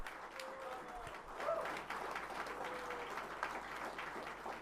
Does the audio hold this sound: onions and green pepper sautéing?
no